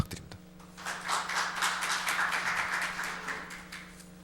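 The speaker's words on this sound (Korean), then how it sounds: "박수 부탁드립니다" A seminar audience claps for the next presenter, a short burst of dense, close hand claps that swells and then fades over a few seconds, with no talk over it.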